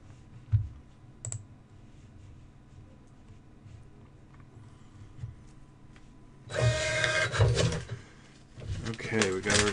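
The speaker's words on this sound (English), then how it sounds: "We'll send another test page of the receipt." A receipt printer set up in Windows prints a test page: after a few quiet seconds with faint background talk, a loud buzzing, rattling burst of printing and paper feed runs, pauses briefly, then resumes close by.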